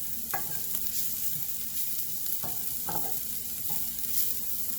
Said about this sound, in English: Just fry for a minute.